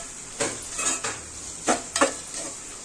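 Tomato and mint being sautéed in a pan while cooking chicken white biryani, with a few scraping, clattering stirs of a utensil against the pan over a soft background sizzle.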